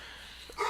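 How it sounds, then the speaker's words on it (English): Several dogs bark excitedly at close range, a quick burst of yips and barks rising loudly near the end of a short moment over a steady low background hum. "I apologize for my dogs going crazy."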